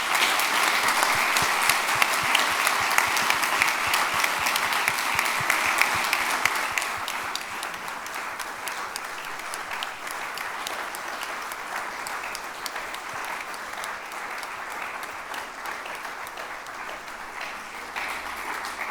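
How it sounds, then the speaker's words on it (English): Sustained applause from an audience filling a hall at an academic year opening and honorary doctorate ceremony, dense and steady for the whole stretch, easing slightly after the first few seconds. "I'd like to ask the room again to have a round of applause to Fritz Scharpf, who's not here, and Renate"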